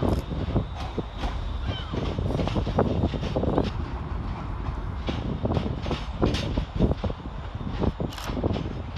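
ScotRail class 385 electric trains move through Glasgow Central station with rhythmic wheel clatter and rumbling rolling noise, mixed with platform ambience and wind buffeting on the microphone.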